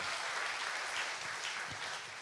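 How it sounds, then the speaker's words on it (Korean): Brief steady applause from a small studio audience on a Korean talk show, close and even throughout, with no talk over it. "박수 한번 주세요."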